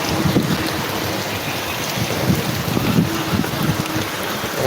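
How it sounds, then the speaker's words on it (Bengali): Steady rain pouring down with gusty wind buffeting the microphone and low rumbling, loud and continuous with no voices. "দেখেন বৃষ্টির অবস্থা বৃষ্টির আবহাওয়া এখন কিছু নিয়ন্ত্রণে আসছে"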